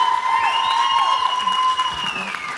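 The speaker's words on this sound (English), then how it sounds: "give a warm round, like raucous applause for these just incredible matriarchs" A crowd applauds raucously for honored matriarchs at a research and advocacy gathering, with loud sustained whistles and cheering riding over the clapping.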